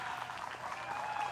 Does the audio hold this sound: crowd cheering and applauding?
yes